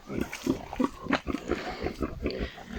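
Native pigs on a mountain farm grunt in a quick, repeated series of short, close snorts, with a voice briefly heard among them.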